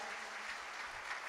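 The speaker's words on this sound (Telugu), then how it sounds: "చప్పట్లు కొట్టండి ఒకసారి గట్టిగా" Church congregation clapping together at a service, a steady, even wash of many hands applauding on its own, moderately loud throughout.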